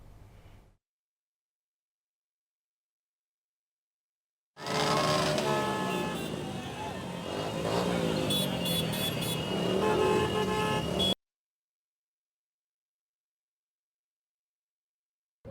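A large motorcycle rally passes through Vizianagaram town during a film promotion: a burst of engine noise with repeated honking horns for several seconds, framed by silence before and after.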